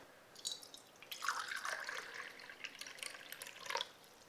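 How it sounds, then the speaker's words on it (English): Water poured into an LED light-up plastic glass that switches on when liquid is added, a fairly quiet trickling and splashing pour lasting a few seconds with small drip-like accents, no talking. "As soon as you pour in the water,"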